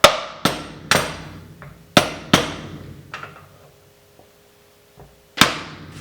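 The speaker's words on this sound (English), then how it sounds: "if you happen to have some sticks, it's okay. Just hammer it down" Sharp hammer strikes driving down bamboo sticks on a bamboo cutting board, about eight blows in uneven rhythm with short pauses, each ringing briefly, close and fairly loud without talk.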